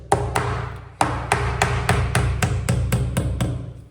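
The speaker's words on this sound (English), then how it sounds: "Tap that into place with a hammer." A hammer strikes repeatedly at close range, tapping a wall plug into a hole in a solid wall, about a dozen sharp taps in a quick, slightly uneven rhythm.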